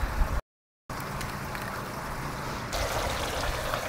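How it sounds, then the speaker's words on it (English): Water blasts out the end of a plumbing line on a homemade evaporative cooling wall, a steady rushing spray that cuts out briefly, then resumes and grows brighter and harsher near the end. "I can poke it up in and then just blast out the water out of the end"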